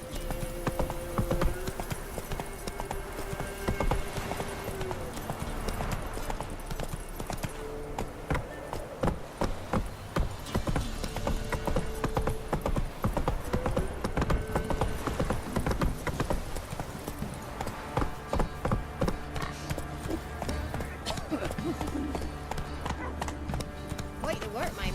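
Horse hooves clip-clopping on the ground in The Witcher 3 game, a steady rhythmic trot close by with occasional snorts, mixed with game music and other characters talking.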